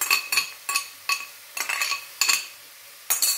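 Pancetta going into a pan to brown for Neapolitan pasta e patate, heard as several short clinking, stirring bursts of utensil against pan over a faint sizzle, close and with no talk.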